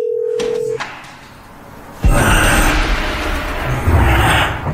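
A telephone sounds briefly with a steady tone at the start, during a hide-and-seek game among cardboard boxes, followed by loud rustling and handling noise.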